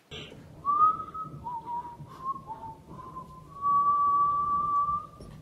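A person whistling a slow, wavering melody alone, fairly quiet, with long held notes and short breaks against a faint background.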